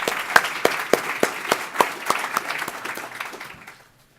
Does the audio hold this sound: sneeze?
no